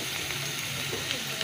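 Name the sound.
taro (kochu) frying in a pan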